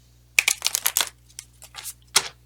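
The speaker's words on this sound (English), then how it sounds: "Okay, one shuffle, and then we'll pull." A deck of tarot cards being shuffled close by, a quick burst of riffling and soft slapping of card edges, then a few scattered flicks and a final snap as the cards settle.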